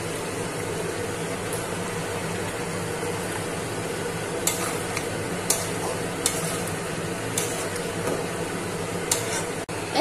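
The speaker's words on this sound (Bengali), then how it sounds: "এবার এর মধ্যে আমি টমেটো পিউরিটা দিয়ে দিলাম।" Tomato puree stirred into chicken frying in a pan, giving a steady close sizzle with soft scraping stir strokes and a few sharper clicks of the spoon against the pan.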